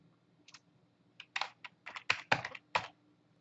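A few keys tapped on a computer keyboard, sparse close clicks coming in short bursts over about three seconds, with no voices in between.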